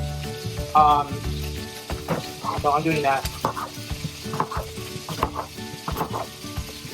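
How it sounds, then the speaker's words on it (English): Loud, steady sizzling of food stir-frying in a hot wok, with scraping stirs and clanks of a utensil while a person speaks briefly. "You want to keep hearing the sizzle. If you don't hear a sizzle, your wok isn't hot enough."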